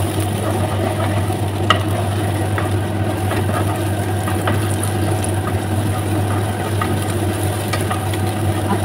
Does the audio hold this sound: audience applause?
no